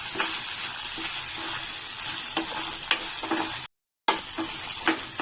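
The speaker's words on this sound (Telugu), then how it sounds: "ఇప్పుడు ఈ అల్లం వెల్లిపాయ బాగా వేగిన తర్వాత ఉల్లిపాయలు వేస్తాను" Ginger and garlic fry in hot oil for masala pappu, a continuous close sizzle broken by frequent spoon scrapes and stirring clinks against the pan, with one brief dropout.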